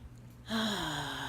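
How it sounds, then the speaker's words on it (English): A person draws a deep breath in: a quiet pause, then a sudden airy inhalation that swells and holds for most of a second, close to the ear. "just take a nice deep breath here"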